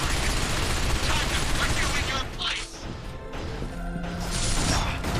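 Dense gunfire and clanking mechanical noise from a firefight in the video game Binary Domain, loud and continuous with bursts layered over a busy mix.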